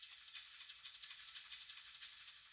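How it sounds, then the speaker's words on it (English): Metal shakers pulse in a bright, hissy rhythm, each stroke echoed by a stereo dotted-eighth delay that creates a steady, slightly chaotic stream of repeating accents, heard alone without other instruments. "And then you have the metal shakers that are really driving things along"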